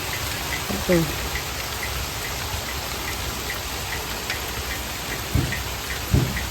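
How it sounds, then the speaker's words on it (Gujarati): Continuous rain patters and hisses steadily, with a few louder drips and knocks standing out near the end. "ફરીથી શરૂ થઈ ગયો છે વરસાદ"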